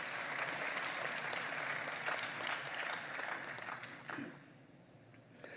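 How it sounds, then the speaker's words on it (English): Broad, even applause from a large audience at the 2024 election results announcement, continuous dense clapping heard from a distance that thins and fades toward the end. "Let's give them a round of applause."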